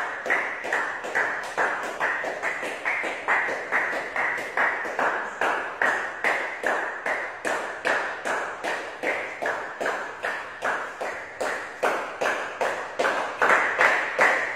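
Steady, rapid clapping from a kyokushin karate class, many hands striking in unison in a continuous rhythmic series of sharp claps, loud and close, with no talking over it.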